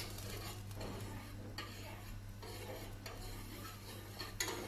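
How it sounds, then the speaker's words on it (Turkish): Quiet scraping and stirring of sugar-free drinking chocolate in a pot on the stove, soft repeated strokes with faint clinks over a low steady hum, no talking. "Şimdi bunu ocağa koyuyoruz ve karıştırıyorum."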